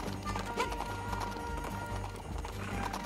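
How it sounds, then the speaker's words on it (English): A horse in the Princess Peach Showtime video game clip-clops along in quick, regular hoofbeats over game music, steady and moderately loud. "How to control the horse."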